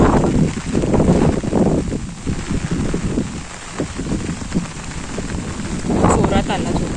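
Heavy monsoon rain in the Konkan countryside, loud and blustery, rushing with wind gusts and buffeting against the microphone, while a person talks intermittently over the downpour.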